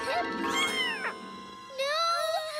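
A cartoon kitten lets out a few short, high, close meows, alone without talk.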